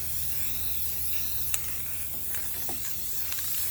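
Aerosol can spraying sealer varnish over an acrylic-poured vase, a steady soft hiss with brief sharper bursts as the spray moves around the piece, close by and without speech.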